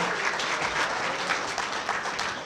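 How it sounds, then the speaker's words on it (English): Steady, dense applause from an audience at a high school football banquet, filling the room evenly for a couple of seconds with no voices standing out. "Let's clap it up"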